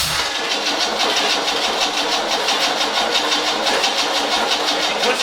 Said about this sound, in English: we are ready to try to get the engine to idle